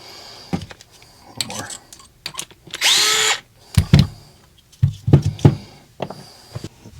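A DEWALT 8V MAX cordless screwdriver runs in a loud, steady whir of about half a second, set among close handling clatter and knocks before and after.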